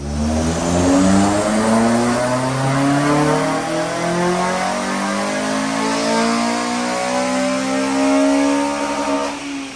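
A remapped Honda Civic FN2 Type R with Ecutek software accelerates hard, its engine note rising steadily and loudly through the revs in one long continuous pull.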